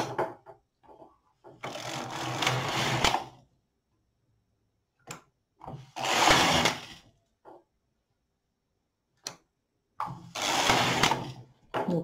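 A circular sock knitting machine runs in three loud, busy bursts of rattling mechanical clatter, each a second or two long, separated by quiet gaps with a few isolated clicks and knocks; close and alone, without talk.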